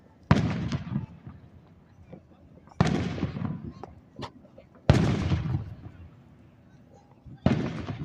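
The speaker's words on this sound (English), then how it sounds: "Little baby fireworks." Small Independence Day fireworks burst in four separate sharp cracks, each trailing a short crackle and fading rumble, with quiet pauses between and a faint voice nearby.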